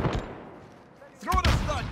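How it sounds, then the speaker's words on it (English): Gunfire in Call of Duty Modern Warfare, a few scattered shots early on, then after a quieter lull a loud burst of rapid gunfire that runs to the end. "Shooting at me!"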